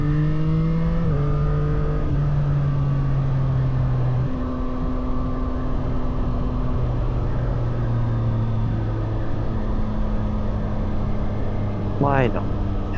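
A 2024 Yamaha MT-09 SP motorcycle's engine drones steadily from close by, stepping up in pitch through gear changes, with a quick rising rev near the end; someone talks over it at times.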